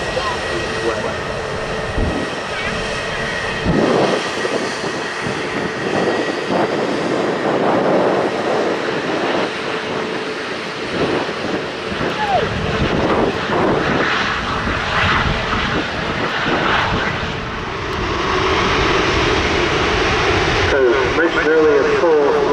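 A passenger jet at Manchester Airport roars past with a sustained, loud engine drone rising and falling over about twenty seconds, someone talking over it throughout.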